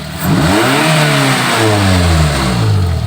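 A Daihatsu Gran Max pickup engine is revved hard with a droning, vibrating note, loud and close, rising and holding for about three seconds.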